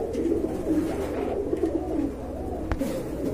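A Jharna Satin pigeon pair cooing close by, soft low warbling calls repeating steadily with one sharp tap partway through, no talking.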